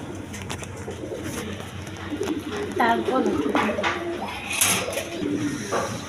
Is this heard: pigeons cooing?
yes